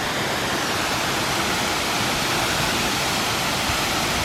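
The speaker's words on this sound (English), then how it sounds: "That waterfall, in my opinion, was better than the first waterfall." A small waterfall pours into a rocky pool on a hike near Snowdon in North Wales, giving a loud, constant roar of splashing water near at hand, steady throughout and free of speech.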